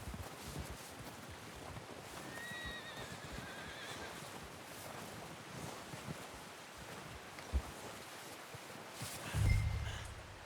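A horse whinnies once, fairly close, over wind noise and scattered hoof thuds, with a louder knock near the end.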